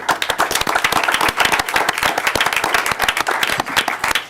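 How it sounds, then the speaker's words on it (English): An audience at a school district board meeting claps steadily throughout, a dense, sustained round of applause with many hands at once, fairly loud and close. "Let's give her a round of applause, everyone."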